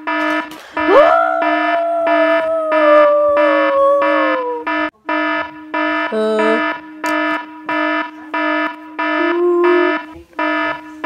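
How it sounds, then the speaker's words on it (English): A school fire alarm rings loudly in steady repeated pulses throughout, with a voice briefly speaking over the start. "The fire alarm!"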